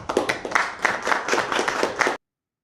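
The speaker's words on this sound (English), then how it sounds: "so a bit of clap there, a bit of a show for that signing after Trump, of course." A short burst of hand clapping from a small group after a deal signing at a political meeting, brisk and uneven, close and fairly loud, ending abruptly at about two seconds.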